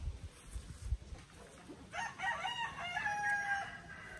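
A large rooster lets out a loud crow that starts partway through and carries with drawn-out, wavering calls to the end, after some low bumping noise at the start.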